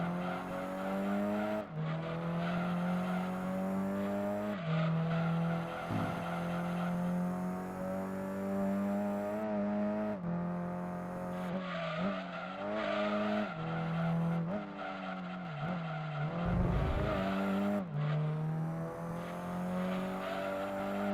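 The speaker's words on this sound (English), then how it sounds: "I can tell the GT1 is getting closer" A GT1 race car in Gran Turismo 2, its engine whining at a steady high pitch that gradually shifts as it closes in, with tire noise and gear changes breaking the drone.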